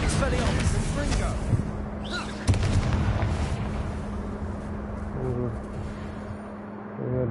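Spell explosions in the video game Hogwarts Legacy: continuous booming and crackling blasts, with a sharp impact near the middle, while a voice calls out in the foreground.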